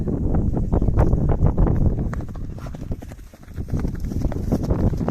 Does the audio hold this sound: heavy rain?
no